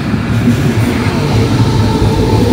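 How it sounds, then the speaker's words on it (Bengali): A train arriving at a station, close and loud, with a continuous heavy rumble and rolling wheel noise that stays steady throughout, with no voices heard. "ট্রেন এসে পড়ছে।"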